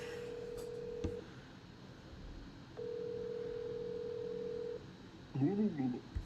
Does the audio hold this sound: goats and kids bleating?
no